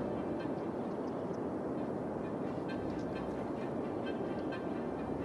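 A train rumbles along the tracks in the city-building game Cities: Skylines, a steady, dense low roar holding evenly throughout with no talking.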